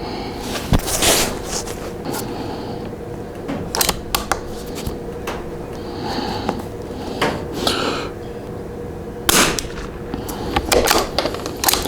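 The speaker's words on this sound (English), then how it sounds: "we're going to come back to 50 yards and we're going to shoot our first group" Sharp, separate cracks from a Vudoo 360 rifle firing SK rifle match ammunition at a 50-yard target, each crisp report rising above steady outdoor background with irregular gaps between shots.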